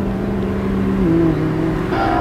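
A car drives along with a steady, loud engine drone heard from inside the cabin, its pitch shifting slightly as it runs, with no talking.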